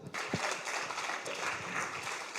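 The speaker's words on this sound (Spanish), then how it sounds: "Denle un aplauso al Señor" Church congregation applauding for the Lord during a Spanish-language sermon, a short burst of broad, fairly quiet clapping from many hands, without voices over it.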